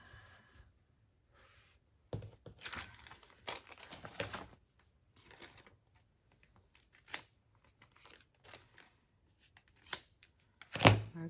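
Paper being folded around an envelope window pocket, with soft crinkles, rustles and light taps coming in scattered bursts and quiet gaps, ending in a louder crumple.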